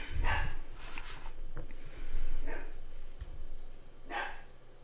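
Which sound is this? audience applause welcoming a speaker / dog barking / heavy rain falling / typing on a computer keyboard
dog barking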